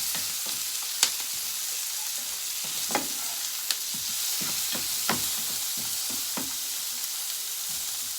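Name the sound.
stirring vegetables frying in a pan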